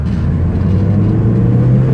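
A Mazda Miata's engine revs up steadily as it accelerates in second gear, a loud, continuous hum rising in pitch from inside the car.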